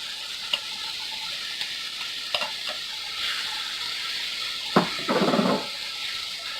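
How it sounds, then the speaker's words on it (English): Rice is stirred into ground beef, onions, peppers and tomato sauce in a frying pan: a low sizzle under scattered spoon scrapes and clacks, ending in a short burst of stirring. "Mix completely until you don't see any white rice"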